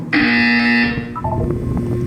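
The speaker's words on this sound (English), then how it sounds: "You will hear a buzzer." An electronic buzzer sounds in the video game Portal 2, a loud harsh tone held for nearly a second, followed by a short descending electronic chime and faint background noise.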